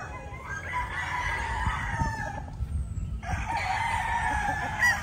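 Chickens clucking with a rooster crowing nearby on a poultry farm, continuous layered calls over low background noise, with a brief pause midway before the calls resume.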